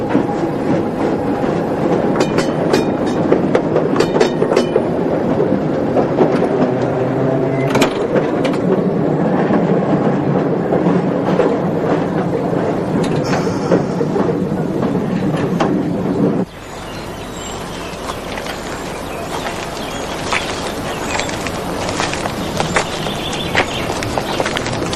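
An old train rattles and bumps along the tracks, loud and close, with continuous clattering, knocking and squealing that drops slightly in level partway through.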